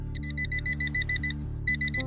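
Metal detector beeping at a hole between the branches of a dead tree, giving a rapid run of short, even electronic beeps that pauses briefly and then resumes, loud and close.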